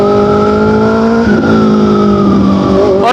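A motorcycle fitted with an Austin Racing aftermarket exhaust, ridden in New Zealand, gives a loud, deep, bassy engine drone. Its pitch wavers and briefly dips mid-ride before a burst of wind noise at the end.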